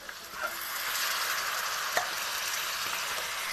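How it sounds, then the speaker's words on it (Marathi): Hot water going into chicken masala frying in oil, giving a steady broadband sizzle and hiss that holds for several seconds, with a couple of brief sharp pops and no talking. "आता मी टाकणार आहे ह्याच्यात थोडंसं हे गरम पाणी घेतलेलं आहे"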